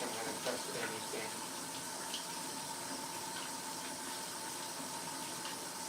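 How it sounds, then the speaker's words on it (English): Tap water runs steadily from a faucet while hands are washed, a constant moderate hiss with faint splashes throughout, before cooking ground turkey, lentils and mushrooms. "I'm washing my hand"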